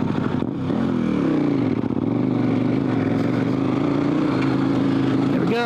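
An adventure motorcycle on Michelin Anakee Wild 50/50 tires pulls hard in second gear on a trail, its engine droning loud and close with a rising then steady pitch, a voice briefly audible at the start.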